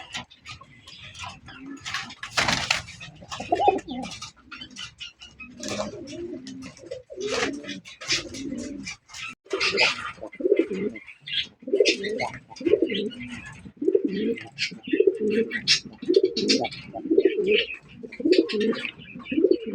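Pigeons at a pigeon farm selling local and foreign birds coo steadily in overlapping, repeated low calls, with a sharp noise burst early on and occasional brief voices.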